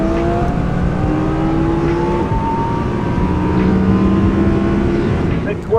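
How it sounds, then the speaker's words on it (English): An Audi R8 engine roars loud and close, its pitch climbing in a sustained revving rush of acceleration with a steady mechanical drone underneath. "Let's hear this R8."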